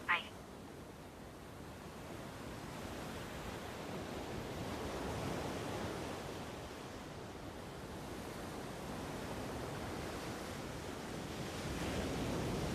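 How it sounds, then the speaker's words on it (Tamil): Ocean waves wash steadily as a broad, continuous surf roar with gentle swells, heard alone with some wind noise. "அலைகள்னாலே ஒரு அழகு தான்."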